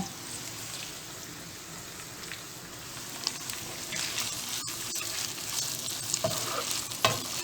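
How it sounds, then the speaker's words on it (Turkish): Dried peppers, already boiled, sautéed in a pan, a continuous crackling sizzle like light rain with occasional utensil scrapes and clicks, growing slightly louder toward the end. "İyice güzelce kavuracağım."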